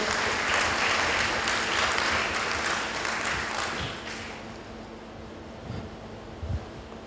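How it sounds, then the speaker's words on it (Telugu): Congregation at a Sunday church service applauding together in a loud, dense burst that thins and fades after about four seconds, leaving a few scattered claps. "చప్పట్లు కొట్టండి ఒకసారి అందరూ."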